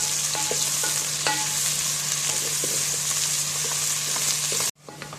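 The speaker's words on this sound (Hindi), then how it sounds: "अब हम इसमें प्याज डाल देंगे और मुसलसल चमचा चलाते रहेंगे कि लाइट ब्राउन सी हो जाए प्याज।" Onions fry in hot ghee in a pot while a spoon keeps stirring them, producing a close, steady sizzle with occasional scrapes and clinks of the spoon that cuts off abruptly near the end.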